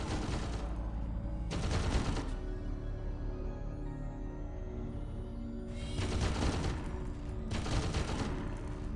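Turret gunfire from System Shock 2 crackles in two rapid bursts, one short and one longer, separated by a stretch of quieter low machine hum.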